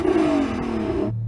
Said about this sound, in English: I'm going to get him to rev his car up